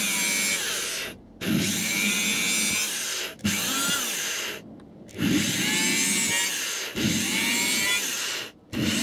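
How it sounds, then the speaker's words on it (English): Power drill boring holes in the wooden baseboard of a model railway layout for dropper wires, in three whining bursts that each last a few seconds and are separated by brief pauses. "drill all the holes for those"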